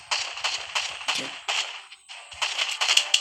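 Rapid sharp cracks of gunfire in the horror video game Granny Chapter Two multiplayer, several close, loud bursts in quick succession with brief gaps.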